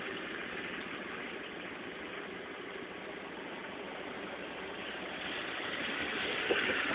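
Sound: vehicle engine idling before moving into first gear

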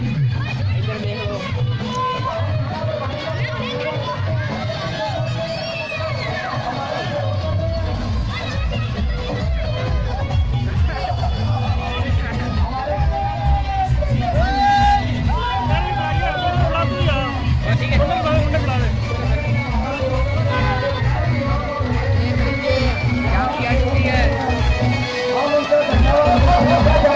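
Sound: crowd gathered for Ravan Dahan effigy burning

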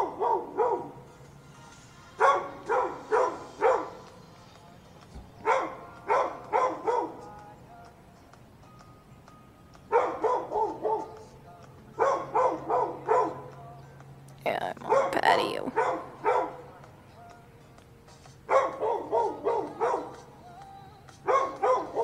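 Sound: puppy barking

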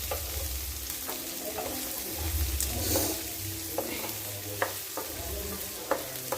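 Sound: fish frying in a pan

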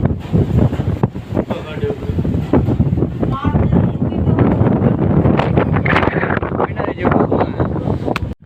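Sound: strong wind

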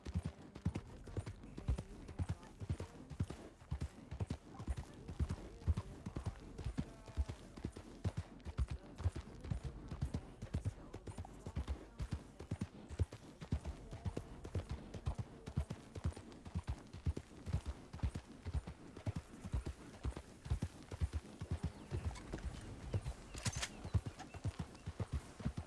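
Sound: horse hooves clip-clopping in a video game (Dreadwood RP)

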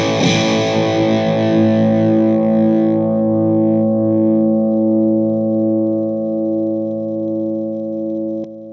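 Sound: electric guitar through vintage distortion and sustain pedals

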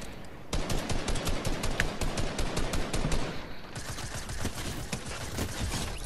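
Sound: shotgun firing in video game Fortnite

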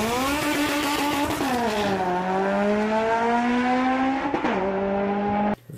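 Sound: supercharged Honda Civic Si with loud exhaust driving

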